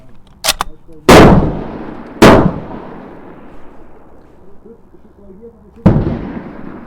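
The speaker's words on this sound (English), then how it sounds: "next up is a string of 3 shots in 30 seconds" A string of bolt-action rifle shots at an outdoor shooting range in Thun: three sharp, loud cracks spaced about a second, then several seconds apart, each with a trailing echo, plus one earlier faint distant pop.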